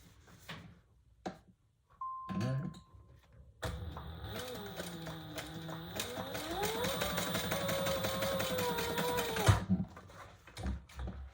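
A sewing machine stitches beneath a card slot on a handmade purse, starting after a few clicks and handling sounds and running continuously for several seconds with a rising, shifting motor whine before stopping.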